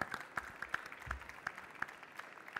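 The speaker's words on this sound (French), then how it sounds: "On vous applaudit." A small audience at a French public-service diploma award ceremony gives faint, sparse applause, a few distinct claps spaced irregularly over a quiet room.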